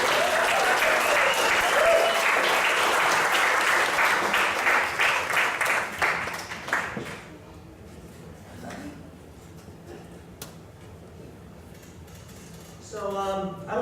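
Stand-up comedy show audience giving a big round of applause as the comedian is introduced, loud dense clapping for about seven seconds that then fades out, followed by quiet room tone and a brief voice near the end.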